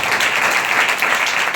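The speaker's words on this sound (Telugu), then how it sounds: "చప్పట్లు కొట్టున్నాము." Dense, steady applause from a crowd at a church fellowship gathering fills the whole stretch at close range, with many hands clapping at once and no voices standing out.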